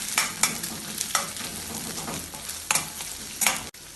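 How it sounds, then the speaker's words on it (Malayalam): Finely chopped onion sautéed with cardamom, cloves and cinnamon for a kohlrabi kurma, a steady sizzle broken by repeated scraping stirs of the spoon in the pan, no talking. "ഒരു സവാള ചെറുതായി മുറിച്ച് ചേർക്കാം. ഇതിനി ഇളക്കി വഴറ്റാം"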